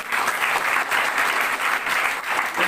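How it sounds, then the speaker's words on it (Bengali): Applause from a seminar audience at a network marketing talk fills the room, a loud, continuous wash of clapping from many people that holds steady for nearly three seconds. "এই জন্য কি একটা করতালি হওয়া উচিত না?"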